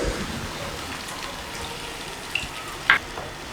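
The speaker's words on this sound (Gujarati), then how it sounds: "હવે એડ કરીશું 1 કપ જેટલું પાણી." About a cup of water is poured into a pan of green chickpeas for a curry, giving a soft steady gush and light sizzle, followed by a brief clink near the end, with no voices.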